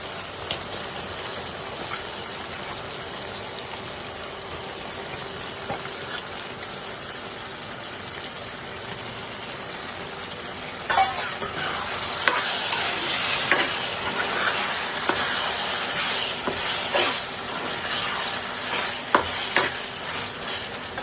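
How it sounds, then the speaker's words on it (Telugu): Prawns hit a pan of softened onions and tomatoes and fry with a steady, close sizzle that swells louder about halfway through, with occasional stirring clicks and no voices. "ఇలా మగ్గిన ఉల్లిపాయలు, టమాటాల్లో మనం కడిగి పెట్టుకున్న క్లీన్గా రొయ్యలు వేసుకోవాలి."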